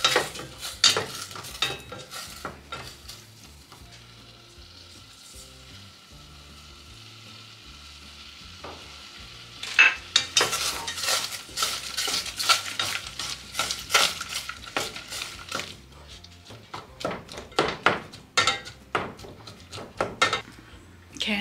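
Strawberries with a little water and sugar heating in a pan, a quiet bubbling simmer followed by busy clinks and scrapes of a utensil against the pan, close and intermittent.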